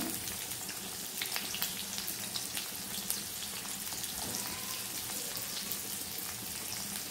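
Onion, green chili and curry leaves sizzling in hot tempering oil for rava upma, a steady, moderately quiet crackle with scattered sharp pops and faint stirring, without any talk.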